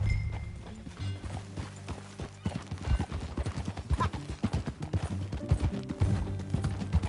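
Horse hooves in Red Dead Redemption 2 clip-clop at a steady riding pace, close and clear, with a brief whinny under a low musical backdrop.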